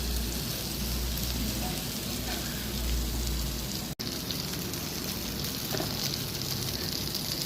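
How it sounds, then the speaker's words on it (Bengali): Bhetki fish tandoori pieces fry in a pan with a steady, dense sizzle like heavy rain, continuing without a break except for one sudden momentary dropout midway. "দেখো আমি এইভাবে তন্দুর ভাজছি"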